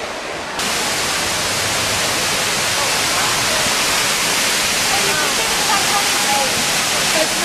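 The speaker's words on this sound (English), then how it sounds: "Stand in front of the waterfall." Waterfall at the Eden Project, a steady, loud broadband roar of falling water that fills the whole stretch without a break, with faint voices of visitors mixed in.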